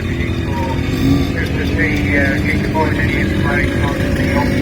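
Enfield and Japanese trials motorcycles circle the ring at an outdoor steam rally, a steady engine drone beneath crowd noise and loudspeaker commentary, with people talking throughout.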